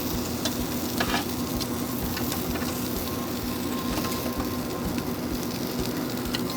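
Smoked pork tenderloin skewers sizzle steadily on a hot cooking surface as they are flipped, a dense, even crackle with a few brief knocks and scrapes, and no talking.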